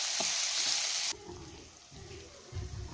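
Vegetables for egg fried rice fry in a pan, with a loud hiss that drops suddenly to a quieter sizzle, followed by rustling stirs and scrapes near the end.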